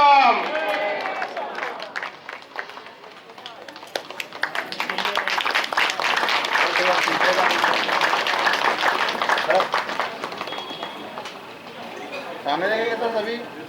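Applause and clapping from the audience at a Brahmin community youth introduction gathering in a hall, a long wash of dense clapping that swells and fades, with someone speaking over it at the start and end.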